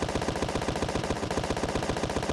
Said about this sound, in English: next we're going to have these cannons, which have a massive scatter.